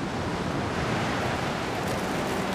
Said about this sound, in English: The wind is a particular hazard.